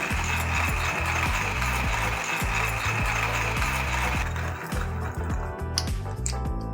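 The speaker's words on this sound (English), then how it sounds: "grinding until there's no resistance left in the little grinder arm" A hand coffee grinder crushing whole coffee beans, with a steady, rapid rhythm of gritty mechanical clicks and crunches, loud and close, easing toward the end as the resistance fades.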